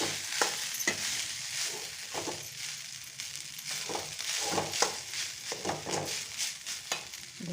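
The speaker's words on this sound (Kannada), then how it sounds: "ಚೆನ್ನಾಗಿ ಮಿಕ್ಸ್ ಮಾಡೋಣ." Rice with cumin is stirred in a frying pan, soft rhythmic scraping and tossing strokes over a quiet sizzle, close and fairly faint, with no talking.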